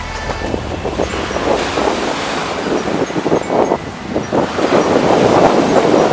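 Ocean waves washing onto a black-sand shore of Manila Bay after a storm, loud surging surf in repeated swells with heavy wind buffeting the microphone.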